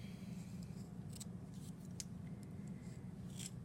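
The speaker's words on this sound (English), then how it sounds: "I'm going to cut my bevel edge going in this way." A fettling knife slices a bevel edge into soft clay, giving a soft, close, continuous scraping and cutting sound with a few faint clicks, alone and quiet.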